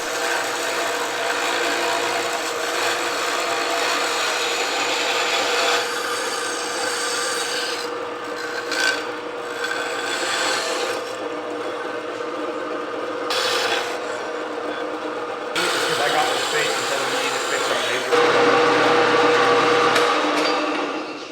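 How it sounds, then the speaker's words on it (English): A bandsaw cuts titanium stock for a knife's frame-lock handle, giving a loud, steady rasping grind that runs continuously with slight shifts in tone and no talking. "Bandsaw it, and then profile it with the grinder a little bit."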